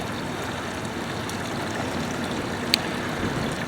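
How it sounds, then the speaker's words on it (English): Steady, gentle trickle of water from a garden fountain running continuously, close by, with a faint brief click partway through. "That's to make the introduction of the water from the fountain a little more gentle."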